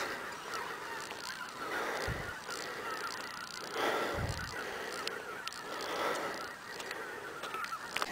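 A large flock of geese honks continuously overhead during a goose hunt in Bulgaria, a dense chorus of overlapping calls at middle distance, with a few brief low thumps and no speech.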